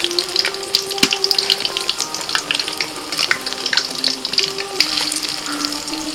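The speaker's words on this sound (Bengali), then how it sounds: "এবার একে একে কুমড়োলিগুলো ভেজে নেব" Pumpkin fritters (kumro bori) sizzle steadily in hot oil in a home kitchen, a close, continuous crackling fry with scattered sharper pops.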